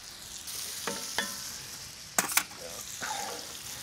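Brown sugar melting into a glaze on a grill over butternut squash and shaved Brussels sprouts, giving a steady soft sizzle with a few stirring scrapes and brief clinks, close and fairly quiet.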